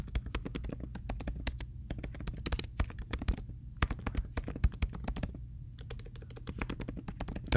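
Fingers type on a computer keyboard in quick, close, uneven bursts of clicking keys, with brief pauses between runs and no talking.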